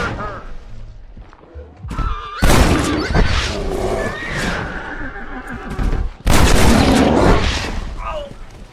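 Shooting at a bear in Red Dead Redemption: two loud, dense bursts of gunfire and commotion, with a horse whinnying and voices shouting around them.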